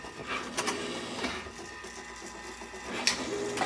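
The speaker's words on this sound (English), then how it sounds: "We're gonna test out our hopper motor and our servo motor." The hopper and servo motors of a Lil' Orbits mini donut machine run together nearby, a mechanical whirring with repeated clicks and soft knocks at an uneven rhythm.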